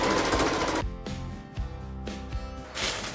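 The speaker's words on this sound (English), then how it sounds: "Look how quickly I'm stitching this" A sewing machine stitches pieced quilt fabric with a half-inch seam allowance, loud rapid mechanical chatter in bursts that speed up and slow down, close by with no voices.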